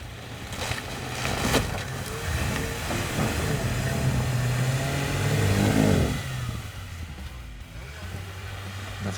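A homemade Finist ATV strains its engine while trying to climb an icy obstacle, the motor revving and labouring in rising and falling surges with clattering, close and loud, then dropping to a quieter idle.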